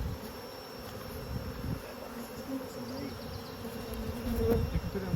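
Agitated honeybees at a hive after smoking, making a dense, steady buzzing drone that grows louder toward the end, with no talk over it.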